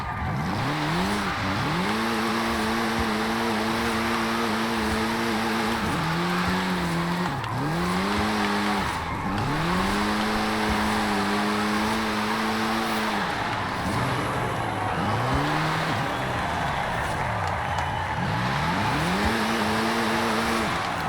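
A 2021 Mini John Cooper Works GP with an AWD drift tune slides through a long run of drifts, engine droning and revving as tires squeal steadily, rising and dipping with each slide and throttle change, no voices.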